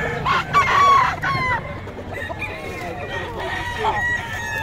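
Several roosters crow over one another amid a noisy background of clucking fowl at a bird market in Bocaue, loud and close, with faint voices underneath.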